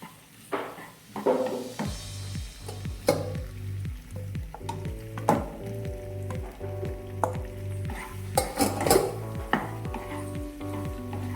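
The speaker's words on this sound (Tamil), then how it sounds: "பாஸ்தா ஆட் பண்ணிட்டு நல்லா வதக்கி விட்டுக்கோங்க." Pasta being sautéed with softened onions for a creamy white pasta, a utensil scraping and stirring through the pan in repeated strokes over a steady sizzle, with occasional louder scrapes and knocks against the pan.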